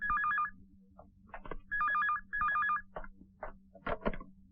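A phone ringtone chirps in three short warbling bursts at moderate level, interspersed with quiet clicks and rustles in a room, no talking.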